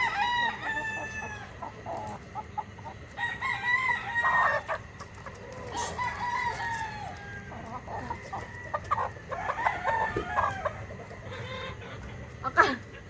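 Roosters crow repeatedly in a farmyard, long rising calls overlapping amid steady clucking from nearby fowl, with dense bird chatter throughout.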